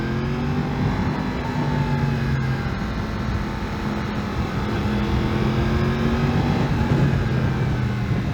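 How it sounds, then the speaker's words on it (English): A Yamaha MT-10 motorcycle engine under throttle, a steady droning roar with gentle pitch rises and falls, moderately loud and continuous, with no talking. "there's like a sound when you give it gas or give throttle."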